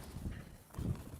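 Horse hooves at an equestrian stud open day strike the ground in two soft, muffled thuds, fairly close but quiet, with no talking.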